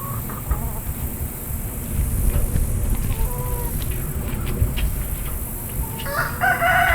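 Chickens in a backyard chicken run cluck and a rooster crows, with scattered bird calls over a steady, loud outdoor background hiss, growing busier toward the end.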